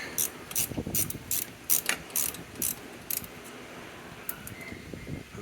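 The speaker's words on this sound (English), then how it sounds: "This is a 13mm nut, 14mm bolt. Crack it right out of there." A ratchet works a 13mm nut off the shock mount of a seized 1979 Vespa P200E engine, giving a series of sharp, close clicking bursts in uneven strokes followed by a few lighter clicks.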